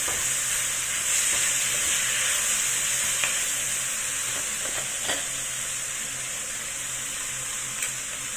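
Sliced pork belly fries in a pan with a bright, continuous hiss and sizzle, close up, broken by a few faint clicks of stirring.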